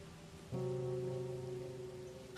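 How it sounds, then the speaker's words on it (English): Heavy rain in a horror video game set in a park, a dense hissing downpour that starts abruptly after a moment of quieter ambience and then holds steady, with a low droning tone beneath it. "Heavy here. rain vibes."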